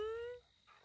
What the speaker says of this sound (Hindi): इधर तो इंसान से ज्यादा कुत्ते हैं।